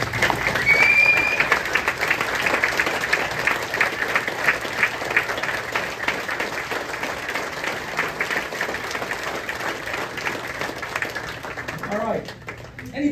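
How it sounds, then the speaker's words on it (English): A standing crowd at a community recognition gathering in Frackville gives sustained, dense applause for about twelve seconds, steady and full throughout before it tapers off near the end. "please stand up and give John the round of applause that he deserves"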